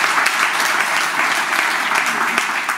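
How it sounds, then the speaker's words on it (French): Conference audience applauding a speaker, a loud, dense burst of clapping from a room of many people, sustained throughout without speech. "Et puis on va accueillir Georgia, que vous pouvez aussi applaudir."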